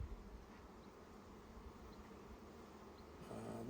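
Honeybees swarm around an open hive during a frame-by-frame inspection, giving a steady, soft buzzing hum that holds throughout and swells slightly at the end.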